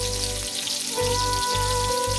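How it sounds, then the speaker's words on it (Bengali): Katla fish frying in hot oil in a wok, a loud, continuous close-up sizzle and crackle with a low rhythmic hum pulsing underneath, no talk. "এখন কড়াইতে তেল দিয়া মাছ কড়ার মধ্যে কড়াইতে দিলাম। আবার খুব ভালো করে তেল দিয়ে ভাজা হবে।"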